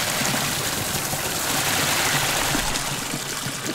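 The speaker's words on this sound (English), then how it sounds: "But if I record from up here, or like from here, it's just this tiny stream." A small forest stream trickles steadily, a close, continuous wash of running water with no voices.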